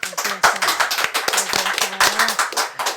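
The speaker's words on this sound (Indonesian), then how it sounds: "Tepuk tangan dong Mi" A small group of people clapping at an evening gathering, quick uneven hand claps close by, with voices talking over them.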